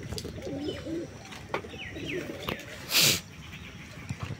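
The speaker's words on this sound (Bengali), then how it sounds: "সকাল সকাল কবুতরগুলি ছেড়ে দিলাম এবং আজকে ওদের একটু ভাত খেতে দিছি" Pigeons released in the morning coo softly as they are fed rice, low rolling calls repeated close by, with a sharp burst of wing or scatter noise midway and faint background sounds.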